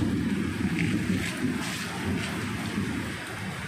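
Heavy rain pours on a street on Navarro Street in Caloocan, a dense, steady roaring hiss with low rumble that stays loud and unbroken throughout.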